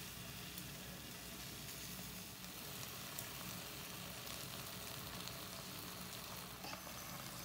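Potatoes sizzle steadily in a pan after oil is added, producing a soft, continuous frying crackle at low level with no talk.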